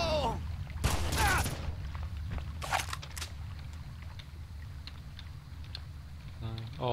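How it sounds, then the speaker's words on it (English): Gunfire in the Red Faction video game, a few sharp bursts of shots crackling near the start and middle, then sparse distant pops under game noise. "Oh, I've been shot at."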